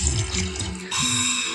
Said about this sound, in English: the sound of McDonald's new Southern Style Sweet Tea